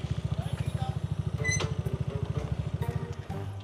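A motorcycle engine idles nearby with a steady, fast low putter, and voices talk over it.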